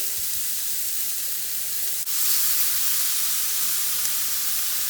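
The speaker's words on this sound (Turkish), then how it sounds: "Arkadaşlar köfteleri tavada bir mühürleyeceğiz." Meatballs sear in a hot pan with a loud, steady, close sizzling hiss, broken by one brief dip and no voices.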